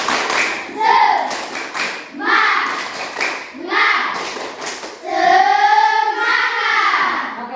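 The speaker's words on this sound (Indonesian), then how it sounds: "sekali lagi tepuk semangat untuk mereka berdua" Group clapping a rhythmic Indonesian 'tepuk semangat' spirit clap in a classroom setting, with bursts of claps in a repeating pattern alongside chanted voices throughout.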